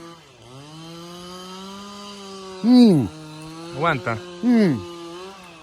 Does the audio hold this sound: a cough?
no